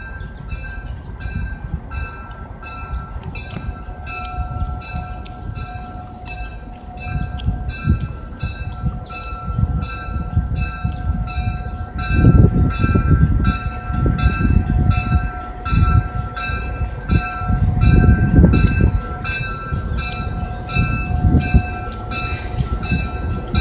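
A Union Pacific locomotive passes close by, with a loud continuous rumble and rhythmic clatter of wheels and wagons and a sustained horn blast, alongside a ringing crossing bell.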